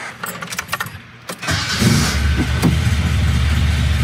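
A 1972 Toyota Celica starting up nearby: a few seconds of cranking and clicks, then the engine catches at once and settles into a loud, steady idle.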